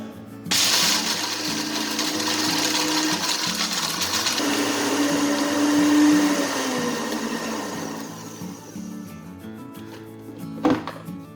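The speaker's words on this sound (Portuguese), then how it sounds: "No liquidificador, adicionamos uma xícara de amendoim descascado, já torrado, sem pele, e vamos bater." A blender whirs loudly for several seconds grinding a cup of roasted, skinned peanuts, its motor pitch shifting as the nuts break down, then cuts off, followed by a sharp knock.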